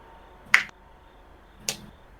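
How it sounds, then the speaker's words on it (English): Two sharp hand claps, well spaced and close by, standing alone against a quiet room. "Jin was clapping."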